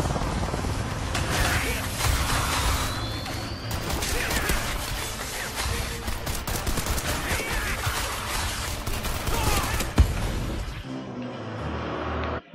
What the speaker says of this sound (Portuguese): Cara, que é muito tiro.